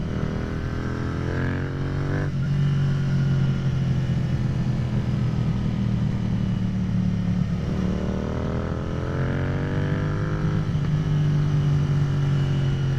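A 650 motorcycle engine hums steadily on a street ride, its low drone rising in pitch through each gear, with shifts dropping the revs twice, and wind rush over it and no talk.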